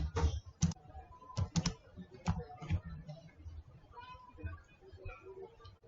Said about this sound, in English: After typing the title